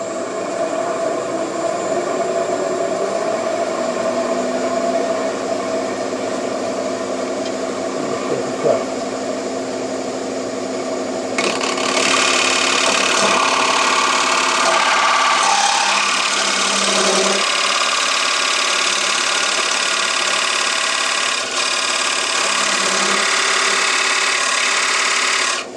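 A small cutting tool working the surface of a spinning turned wood bowl on a lathe, steady motor hum joined midway by a louder, brighter scraping cut that runs continuously to the end.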